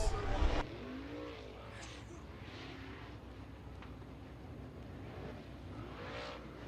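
Tri-State Late Model Series race cars circle Rapid Speedway, their engines sweeping past at a distance in moderate, rising and fading passes after a brief loud thump at the start.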